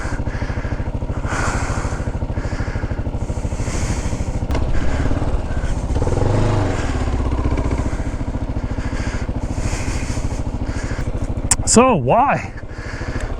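Kawasaki KLR 650 motorcycle churning through thick mud off road, its engine a steady close rumble under talk from the rider, with a brief rise and a clattering surge near the end.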